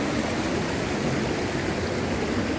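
A mountain stream in Washington's Olympic National Park, between the Duckabush and Dosewallips, rushes in a loud, steady broadband wash that stays constant throughout with no voices.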